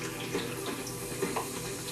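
Pork rinds frying for chicharron give a steady, faint sizzle and crackle with scattered soft pops, heard up close and without talk.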